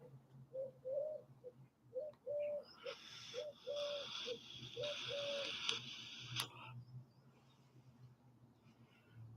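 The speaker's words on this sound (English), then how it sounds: "We have pigeons. There's pigeons around here." Pigeons coo softly in a series of short, repeated calls, fairly faint against quiet background noise, with a brief burst of brighter rustling or clatter partway through.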